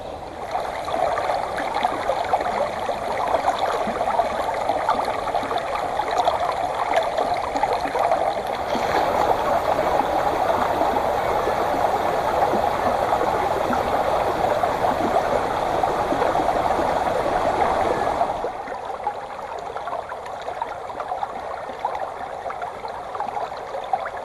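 A small stream of water running downhill outdoors on a summer camping trip, a steady close rushing and gurgling flow that continues throughout, dropping somewhat in level near the end.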